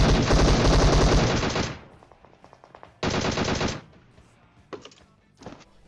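A DP machine gun fires in PUBG, with a long rapid burst and then a second shorter burst, followed by a few scattered single shots. The gunfire is loud and close.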